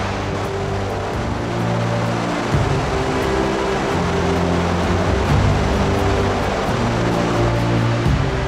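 Rushing rapids and churning waves of the Mekong River surge through a deep gorge, a loud, continuous broadband roar with slight shifts in intensity and no voices.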